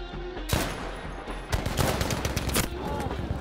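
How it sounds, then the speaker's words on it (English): Gunshots in Battlefield 5 ring out amid a dense wartime battle din, with several sharp loud cracks standing out over continuous background combat noise; no talking heard. "What kind of gun was that? It literally just shot one bullet."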